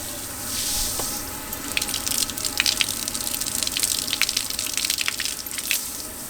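Water streams steadily from a homemade shower in a teardrop camper, a continuous hiss with small splashes and drips building after the first second and staying close and even throughout.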